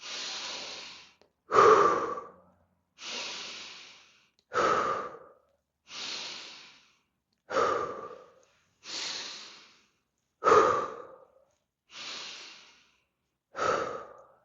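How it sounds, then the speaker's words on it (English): Slow, rhythmic breathwork with deep inhales and long, audible exhales, about ten breaths in steady sequence, close and alone with no talking. "Breathe firstly to the belly, then to the chest, and then long exhale."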